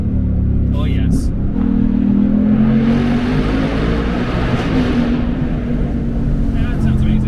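A 2024 Mustang Dark Horse's engine revs loud and close on a test drive, a steady rumbling roar that climbs and swells, with people talking over it.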